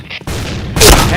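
Gunfire in a mobile battle game: a short, loud burst of shots and a booming hit, close and compressed, with a brief gap before the blast.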